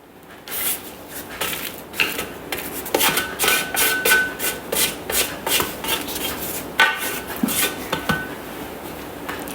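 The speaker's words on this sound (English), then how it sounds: "It says to scrape down the sides with the spatula." A spatula scrapes down the sides of a Thermomix bowl holding broccoli and cheddar soup ingredients, producing repeated close rubbing swipes and light clinks against the metal in an irregular rhythm, with no voices.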